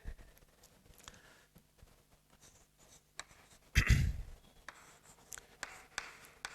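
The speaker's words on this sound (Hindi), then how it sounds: "चलिए तो पहले इसकी हम परिभाषा लिख लेते हैं" Pen or chalk writing out a cell junction definition for a biology lesson, heard as quiet, irregular scratchy strokes with a louder tap or knock partway through, alone with no talk.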